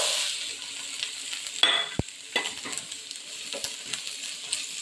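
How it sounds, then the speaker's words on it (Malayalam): Capsicum tipped into a pan with onion and a pinch of turmeric and stir-fried, a soft sizzle with a sharp metallic clink and a few spoon taps against the pan, close and quiet, no voices. "ഇനി നമുക്ക് ക്യാപ്സിക്കം ചേർത്ത് കൊടുക്കാം."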